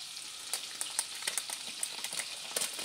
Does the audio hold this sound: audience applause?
no